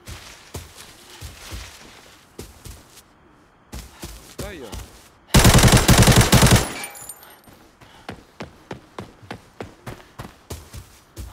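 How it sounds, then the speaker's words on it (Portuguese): Sharp gunshots from the mobile shooter game Arena Breakout crack irregularly, building into a loud, rapid burst of automatic fire before settling back into scattered single shots. "Tiros."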